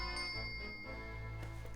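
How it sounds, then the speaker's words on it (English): A servant's bell rung by a pull cord in The Great Ace Attorney Chronicles, a bright tinkling chime over a steady low game-music bed, with a couple of soft dings through a short stretch. "That's a bell, all right."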